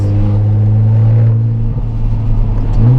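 A Nissan GT-R running after a malfunction gives a loud, close, continuous deep engine drone with a steady tone that dips briefly and then swells again.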